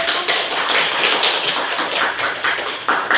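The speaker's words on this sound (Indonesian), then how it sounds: "Oke, kasih tepuk tangan dulu." Classroom applause after a student presentation, a loud, close burst of many hands clapping that holds steady throughout.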